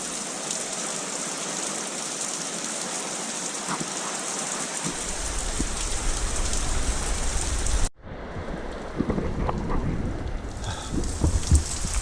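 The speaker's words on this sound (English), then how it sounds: "this is just a torrential rains, a little bit of wind now." Torrential rain pours during a tornado-warned thunderstorm with a little wind, a dense continuous roar broken by deep rumbles of thunder and a brief drop-off before the downpour surges back loudly.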